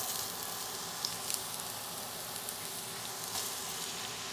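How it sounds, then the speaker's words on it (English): Chopped pepper and onion hiss and crackle in warm oil in a pot over medium heat for homemade ketchup, a soft, even sizzle with faint scattered pops, no voices. "add all of the chopped pepper and onion to the pot"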